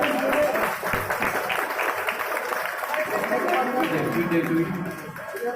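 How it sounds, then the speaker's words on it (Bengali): An audience at a Vidyasagar bicentenary event claps in a steady patter of many hands, moderately loud, with a voice speaking over the applause. "একটু হাততালি হোক।"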